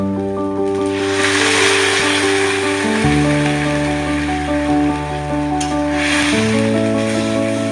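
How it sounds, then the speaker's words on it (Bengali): Small kachki fish frying in a pan after a splash of water is added, giving a continuous close sizzle with steady tonal hum underneath and brief scraping touches. "এবার সামান্য পরিমাণে একটু জল দিয়ে দেব।"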